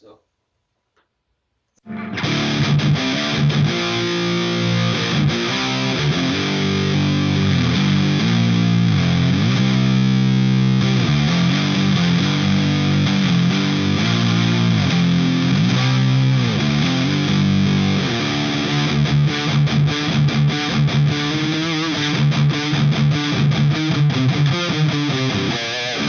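An electric guitar plays through an Orange Rockerverb MKI amp on its dirty channel at the third gain stage, giving a loud, continuous distorted tone with chord changes after a brief silence.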